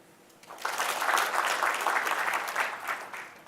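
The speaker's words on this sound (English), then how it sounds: "So I'd like you to clap, please." A seated audience at a team-building talk claps on request, a dense wash of applause that swells quickly after a brief pause and holds steady for about three seconds, with no talk over it.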